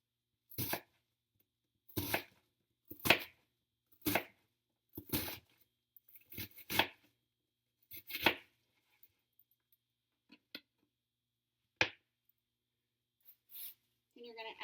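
A knife slices down the center of a butternut squash in a series of about eight sharp, crisp cuts roughly a second apart, close and fairly loud, followed by a few fainter clicks and knocks.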